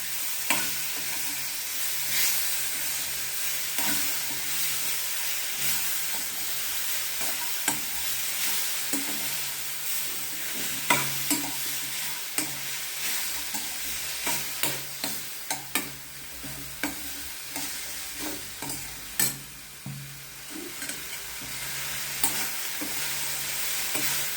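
Green chillies sautéing in a pan for chammanthi, a steady soft sizzle with scattered crackles and sharper pops growing more frequent toward the end, no voices.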